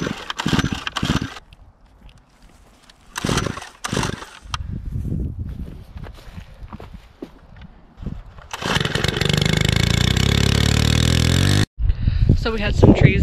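Chainsaw cutting up fallen trees on raw rural land, a loud steady motor drone running for several seconds near the end after bursts of talk and clatter, then briefly cutting out and resuming.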